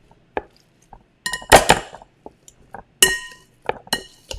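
Pierogi filling is mashed in a bowl, giving sharp, irregular clinks and knocks of a utensil against the dish, close and dry, with short quiet gaps between the strikes.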